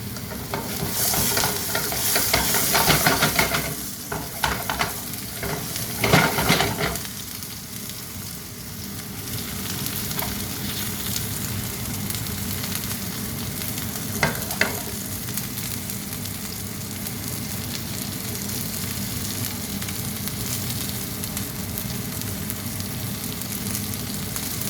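A halal T-bone steak sears in a hot pan with a constant, dense sizzle, louder and crackling with scraping and shifting early on, then settling into a steady hiss with a couple of brief knocks.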